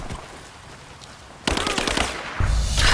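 Rapid machine gun bursts in the Rise of the Tomb Raider video game roar in close and loud, growing heavier partway through and then swelling further into a dense barrage of game combat noise.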